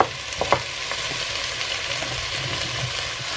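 Potatoes, courgette, onion and garlic being stirred in oil in a pan, with a steady sizzle of frying and a few sharper scraping knocks from the spoon near the start, heard close up with no talk.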